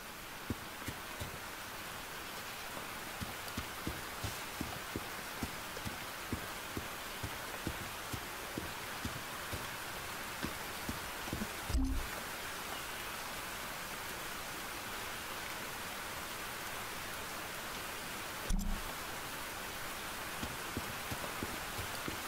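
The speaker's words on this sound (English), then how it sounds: "It's raining." Steady rain falls in the video game Tchia, a dense even patter of drops with no voices, broken twice by brief low thumps.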